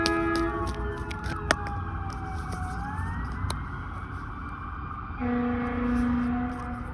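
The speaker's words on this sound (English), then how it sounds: "That's a siren, and it is a fire rescue and a fire truck." A fire rescue truck siren sounds from a moderate distance, several overlapping wailing tones sweeping up and down, then shifting into a steadier, louder tone after a few seconds, with a steady background rumble.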